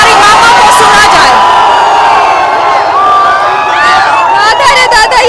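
A large street protest crowd shouts and cheers in a loud, continuous roar of many voices, with individual yells rising above the dense hubbub.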